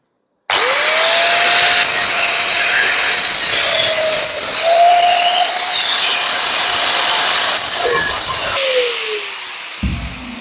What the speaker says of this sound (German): So, dann schneiden wir mal da unten ein Stück weg.